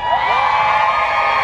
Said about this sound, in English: I get a Beatlemania scream out of you?